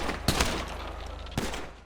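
Gunfire in the video game GTA 5 comes as two short, sharp shots or bursts about a second apart. They are fairly faint over a steady low hum, with no talking.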